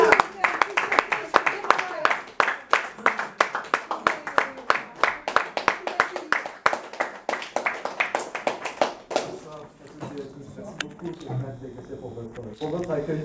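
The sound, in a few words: audience applauding Romain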